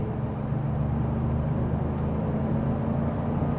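A 2026 Ford Expedition Platinum Ultimate with a twin-turbo V6 accelerating at about half throttle in eco mode, a steady low engine drone and road rumble, continuous and moderately loud with no talking.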